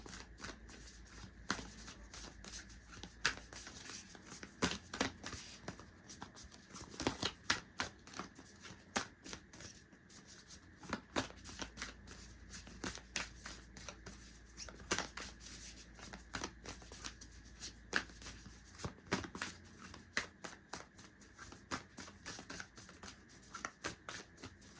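A Moonology oracle card deck is shuffled close up, with rapid, repeated riffling flutters and soft card slaps continuing steadily and quietly.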